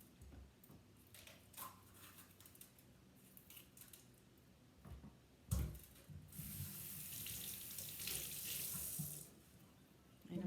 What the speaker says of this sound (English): And I'm giving it a quick rinse.